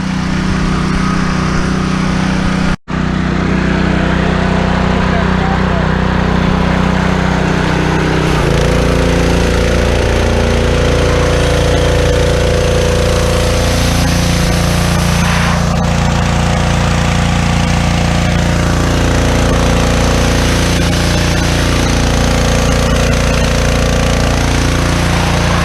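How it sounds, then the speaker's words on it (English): A power washer blasts grime off a jon boat, its loud, continuous motor roar and hissing spray running steadily throughout, with a brief cutout near the start and a change in engine tone partway through. "step one is going to be power wash. Blast this off as good as possible."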